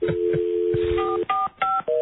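A run of touch-tone telephone keypad beeps as a number is dialed, with clear steady tones followed by several quick, separate key presses, loud and close with no talking.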